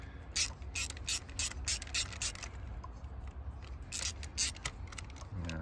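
Ratchet wrench loosening a spark plug on a Ford Explorer 3.5L EcoBoost engine: quick bursts of sharp clicking pawl strokes, close and fairly faint, repeating in short runs with brief pauses between.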